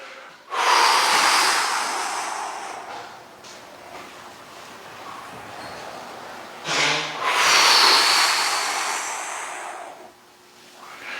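Long, forceful exhalations during a side bend stretch in a guided movement session: two loud, breathy rushes of air, each lasting a few seconds, with a quieter stretch of breathing between them.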